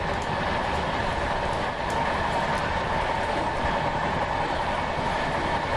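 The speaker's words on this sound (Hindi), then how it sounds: "तो सामने से एक और ट्रेन आ रही है" A train runs steadily along the rails on the Mumbai–Ahmedabad Shatabdi Express route between Vapi and Valsad, giving a continuous, even rumble with faint clickety-clack and no voices.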